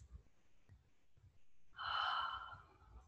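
Deep breath during a yoga session, a long airy inhale or exhale swelling after a quiet pause and fading over about a second, close and fairly clear over faint room noise.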